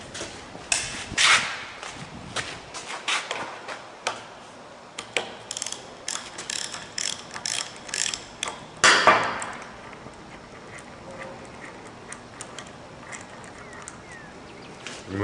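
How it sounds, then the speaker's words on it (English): Metal hold-down plug being unscrewed by hand tool during pump disassembly, a string of close ratcheting clicks and scraping metallic knocks with one louder clank midway, no talking. "Screw the hold down plug out."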